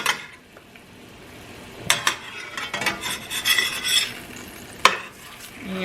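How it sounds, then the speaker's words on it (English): A chicken cutlet sizzles in a frying pan while a utensil scrapes and clatters against the metal as it is flipped, with sharp clinks and scraping bursts over a soft frying hiss. "This has been lately sauteing here for about 10 minutes maybe."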